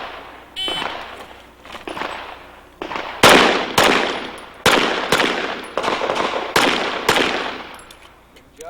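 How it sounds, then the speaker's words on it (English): Pistol shots ring out during an IDPA shooting stage at a 1997 invitational match, with about nine sharp, loud reports fired at an uneven pace, each one followed by a short echo, plus a brief beep near the start. "Good shooting there, too."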